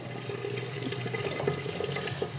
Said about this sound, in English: nice boiling hot water from the Kookatap